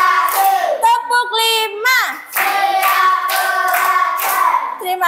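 Young pupils in an Indonesian primary classroom perform a patterned hand-clapping routine, repeated claps interleaved with lively children's voices chanting in rhythm, close and loud.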